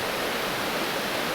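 Water rushes at the Castel San Vincenzo waterfalls in Molise, Italy, a loud, steady, close roar with no other sounds.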